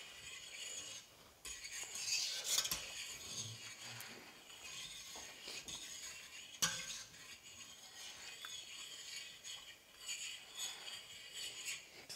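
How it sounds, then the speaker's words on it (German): A spoon stirs carrot soup in a pot, scraping and clinking softly against the metal in uneven strokes, with light bumps and a quiet simmer throughout. "Ne, erstmal umrühren natürlich."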